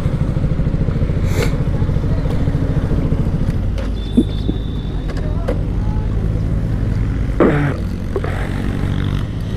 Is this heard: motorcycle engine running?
yes